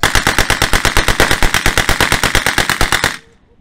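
Rapid, loud machine-gun fire at an air show rattles in a steady fast burst for about three seconds, then stops abruptly into quiet.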